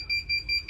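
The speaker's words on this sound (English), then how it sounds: "you'll hear a beep" Fancierstudio 15x15 heat press timer sounding a repeating electronic beep, four evenly spaced high tones, clear and close over a low background hum.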